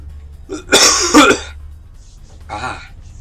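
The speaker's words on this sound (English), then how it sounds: "Still got the cough." Two rough bursts of coughing or throat clearing close by, a longer harsh one followed by a softer one after a pause, over a low Euro Truck Simulator 2 engine hum.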